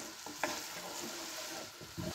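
Chicken stir-frying for a spicy stir fry, a continuous close sizzle broken by several clattering stirs of a utensil in the pan, with no voices.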